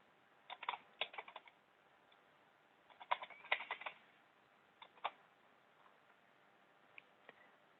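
Keys on a computer keyboard are tapped in short, quiet clusters as a search is typed, with pauses between bursts and no talking.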